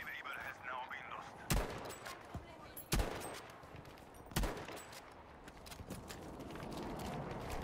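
Gunfire in Battlefield 5 aimed through wooden slats: three loud, sharp single shots spaced over a few seconds amid quieter game noise, with someone talking underneath.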